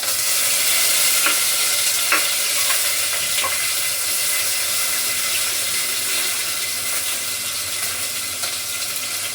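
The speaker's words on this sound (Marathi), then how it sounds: "लसूण अर्धा चमचा जिरं घातले आणि थोडंसं लसूण टाकलाय, कढीपत्ता" Garlic, cumin and curry leaves sizzling in a tempering for dal, a loud, dense, continuous hiss close by, dotted with faint pops and crackles, without any voices.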